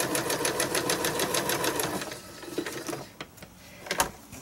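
A sewing machine stitches through several layers of fabric made from snippets and threads, a fast even run of needle strokes for about two seconds, then stops amid soft handling clicks and rustles, close by with no talk.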